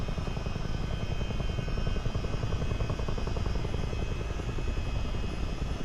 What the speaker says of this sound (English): So I've done about 4 actual flights in a